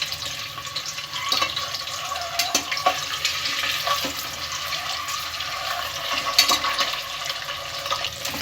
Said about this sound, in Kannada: ಇದನ್ನು ಸ್ವಲ್ಪ ಹೊತ್ತು ಎಣ್ಣೆಯಲ್ಲೇ ಇದೇ ರೀತಿ ಫ್ರೈ ಮಾಡ್ಕೋಬೇಕು.